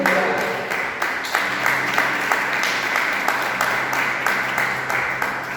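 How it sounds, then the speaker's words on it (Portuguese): A church congregation applauds steadily through a service, a dense wash of clapping that swells in rhythmic pulses and carries on without a break, with no talking over it. "aplaude e glorifique ao Senhor"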